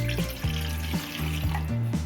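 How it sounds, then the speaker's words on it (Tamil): Water is poured into a pan to make almond milk, a steady splashing, running-water rush with faint rhythmic pulses, close and continuous for two seconds without talk. "தண்ணி ஊற்றிக்குவாங்க."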